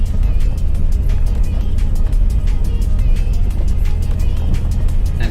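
A 4WD truck in full low range grinds up a steep mountain track toward a fire lookout, its low engine drone steady and close throughout with constant rumble and no voices.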